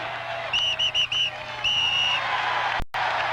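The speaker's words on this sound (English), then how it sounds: "Take that whistle out of here, would you, man?" At Veterans Stadium in 1980, a shrill whistle sounds in a quick series of short blasts, then one longer blast, loud and close over a murmuring crowd.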